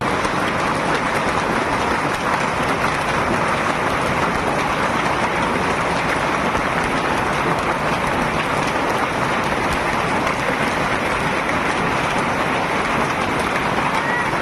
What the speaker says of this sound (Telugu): మొత్తం వడగల్లే పడుతున్నాయి ఆకాశంలోకెళ్ళి.